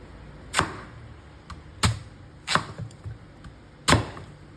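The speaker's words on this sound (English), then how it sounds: "I'm gonna chop into small pieces" A knife chops taro into small pieces with four sharp, close thuds on a cutting board, spaced irregularly about a second apart with quiet gaps between them.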